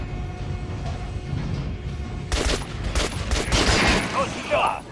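Gunfire at target dummies on a shooting range in the video game Metro Last Light: after a quieter start, a loud, rapid burst of close shots crackles out in quick succession with some talk mixed in.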